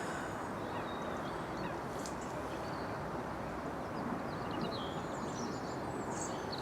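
Coots squawking and screaming across a carp lake, scattered high calls over a steady broad wash of wind or water noise, fairly distant and continuous.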